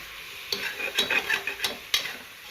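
Garlic and ginger are stirred in a pan for chicken curry, a series of sharp scraping strokes and clinks at an uneven rhythm over a faint sizzle, close and fairly quiet.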